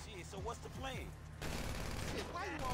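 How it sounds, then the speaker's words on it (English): Shotgun loaded with slugs firing in GTA Online, a few heavy blasts in quick succession, loud and close, over game ambience and a voice talking throughout. "Oh, ooh, shotgun."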